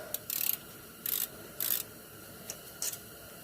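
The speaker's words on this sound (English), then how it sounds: "we're going to have a 14 on a ratchet. And we're just going to take those two bolts off." A ratchet on a 14mm socket loosens the brake caliper guide pin bolts on a 2007 Pontiac G6, giving short bursts of rapid clicking close up with brief pauses between them.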